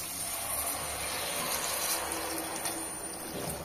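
Half a litre of water is poured into mushroom soup, making a continuous, fairly soft splashing stream that keeps an even level throughout.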